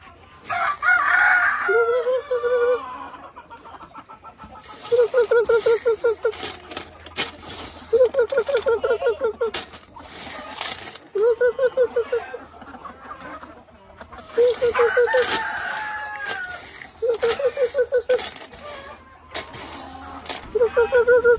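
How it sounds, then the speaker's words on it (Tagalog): Escaped chickens and roosters outdoors in the early morning, with repeated loud rooster crows recurring every few seconds and some clucking between them, close by. "yung mga manok, aga-aga, nakawala sila"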